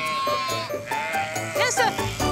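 Sheep bleat several times in wavering cries, close and fairly loud, during shearing with a shepherd, and a person's voice is heard alongside them.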